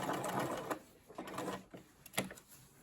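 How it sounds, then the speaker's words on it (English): A sewing machine back stitching gives a short, quiet burst of rapid mechanical whirring that stops, then resumes in brief pulses, close and without talk. "So I'm going to stop there and back stitch."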